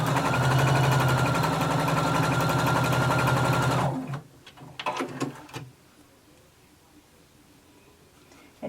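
A home sewing machine stay stitching the back neckline of a garment runs in a loud, steady whir for about four seconds, then stops, followed by a few softer handling clicks and rustles.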